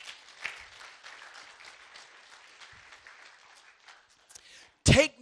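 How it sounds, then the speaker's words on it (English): Congregation in a church clapping hands together during a Sunday service, a soft, fairly quiet spread of claps fading over a few seconds, ending in one sharp loud burst close to the microphone. "Can you give the Lord a hand clap this morning?"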